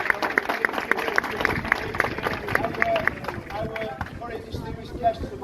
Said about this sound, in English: let's give a massive round of applause for Rick Oldham